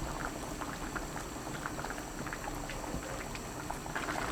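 Potato nurungji porridge boils in a pot over high heat, thick bubbles popping and gurgling continuously at close range, with occasional soft stirring sounds and no speech.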